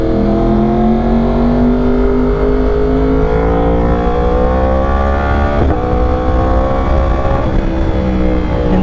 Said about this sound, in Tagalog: naka Austin Racing Titanium exhaust to